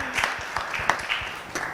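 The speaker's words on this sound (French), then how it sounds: "On l'applaudit encore une fois." Short stretch of applause in a studio talk-show setting, a handful of distinct, fairly close claps spaced irregularly over a low background hum.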